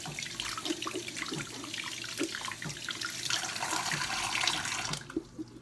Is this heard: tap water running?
yes